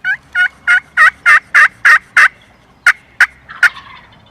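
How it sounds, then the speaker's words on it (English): Wild turkeys gobble in a run of about eight rapid, loud calls, then a pause and three more scattered gobbles, close and clear over a quiet outdoor background. "the birds circled around, started gobbling at us"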